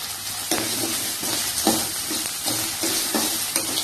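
Onions sauté in a hot pan for curry leaf kulambu, a steady frying sizzle broken by regular scraping stir strokes roughly every second, close and clear with no voices.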